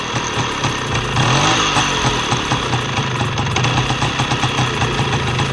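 A Peugeot SX5 scooter engine with an ignition fault idles close by at a low, steady, slightly knocking rhythm, running on without stalling.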